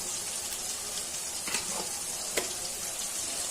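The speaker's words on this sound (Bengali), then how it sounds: "দিয়ে দিচ্ছি রসুন বাটা" Garlic paste fries in a pan with beans, giving a close, steady sizzle with soft stirring scrapes and a couple of sharper clinks, and no one talking.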